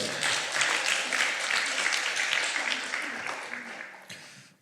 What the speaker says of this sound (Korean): 우리 귀한 선생님 너무너무 잘해 주셨습니다. 박수 한번 주세요.